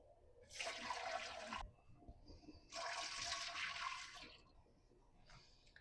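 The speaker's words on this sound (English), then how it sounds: "I'm going to get some hot water into the pressure canner. I have an instant hot faucet" Water rushes from an instant hot faucet into a pressure canner in two strong bursts of a second or so each, with quieter trickling between and after.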